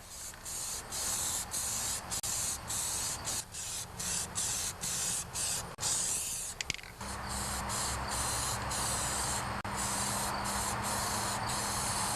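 Spray paint hissing onto the hood of a John Deere 316 garden tractor, first in a run of short repeated bursts, then in a longer steady spray, close and loud.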